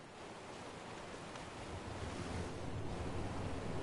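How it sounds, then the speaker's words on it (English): A stacked series of waterfalls in Ark Survival Evolved pours with a steady broad roar, close and continuous, growing slightly louder toward the end with no voices. "This is a stack of waterfalls."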